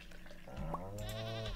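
Baby goats in the Stardew Valley farming game bleat in a short, close, wavering cry, loud and alone.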